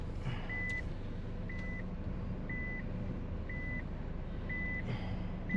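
Regular reversing beeps repeat about every second in a busy Saturday car park, moderately close, over a steady low rumble of idling vehicles.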